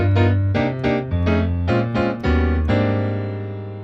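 Piano playing close-position rootless seventh-chord voicings, about six block chords struck in turn, close and loud, the last chord left ringing and fading.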